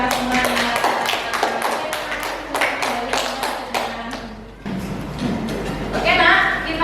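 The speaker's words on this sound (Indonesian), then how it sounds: "tepuk tangan untuk kita semuanya" A classroom of students claps together in a dense, steady patter of hand claps lasting several seconds, fairly loud and close, with faint voices mixed in.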